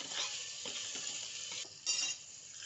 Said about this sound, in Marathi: पुन्हा एकदा व्यवस्थितरित्या मिक्स करून तुरीची डाळ घालून घेणार आहे